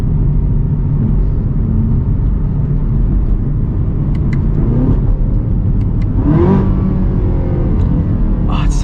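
A Chevy Camaro ZL1 1LE accelerates on the road, a loud steady engine drone and rumble heard from inside, with a swelling rev near the end.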